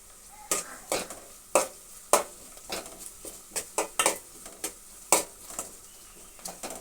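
Ginger garlic paste fries in hot oil while a spoon scrapes and stirs the pan in sharp, irregular strokes roughly every half second, over a low steady sizzle, close and without talk.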